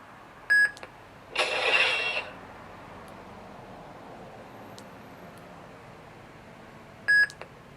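A Vader's Vault Tempest Elite lightsaber gives two short electronic beeps, one near the start and one near the end, with a brief hissing burst between them, heard alone.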